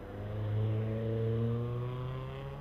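A BMW race car climbs the Loton Park hill climb course, its engine note holding a steady, loud harmonic drone that rises slightly in pitch as it accelerates past, close by and without talk.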